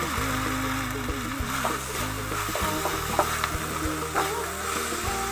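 Turmeric, chili and coriander powder sizzle and fry in hot oil for a Bengali mixed dal, with steady crackling and bubbling close up and occasional stirring scrapes, no voices.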